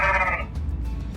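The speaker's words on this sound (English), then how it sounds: "Goats make the sound ba ba." A goat gives one short, close bleat, loud and alone with no voices.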